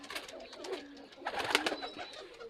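A Pakistani pigeon coos softly in a few rolling bursts, close but faint, with light rustling between calls.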